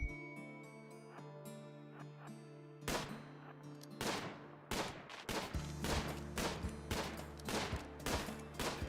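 Video game gunshots ring out as a rapid string of sharp, punchy cracks over a steady tonal musical backdrop, starting sparse and growing into frequent, regular firing, with no talking.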